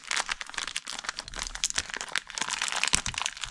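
Heavy packing tape on a cheap motorcycle cover being handled, close crinkling, crunching and tearing sounds in a busy irregular stream.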